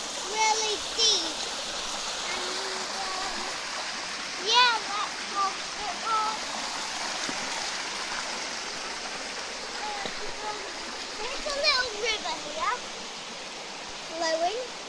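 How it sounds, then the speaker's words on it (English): A stream flows near Falling Foss waterfall in North Yorkshire, a steady close rushing of water with voices talking and calling intermittently over it. "You can hear a stream coming down to there."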